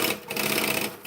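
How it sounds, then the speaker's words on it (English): A sewing machine fitted with a half foot runs steadily through a quarter-inch seam, its close, continuous mechanical whir holding for about a second with no talk over it. "I should really do the last bit of stitching I need to do with this half foot on"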